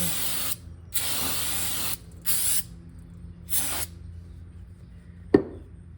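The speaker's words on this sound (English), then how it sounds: "So we're gonna spray her down." Several short hissing bursts of aerosol spray on Mazda Miata brake parts, three or four in a row with pauses between, followed by a sharp metallic clack near the end.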